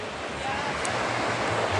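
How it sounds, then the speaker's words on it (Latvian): Ocean waves breaking at the shore in Sri Lanka, a steady broadband wash of surf rolling continuously with low rumbling swells, close and fairly loud throughout. "šeit ir okeāns"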